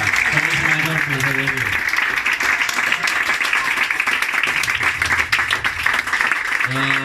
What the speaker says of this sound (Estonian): Kõik veel suur aplaus Ljošale.